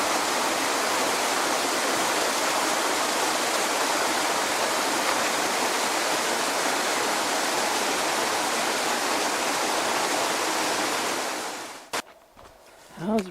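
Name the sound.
small waterfall flowing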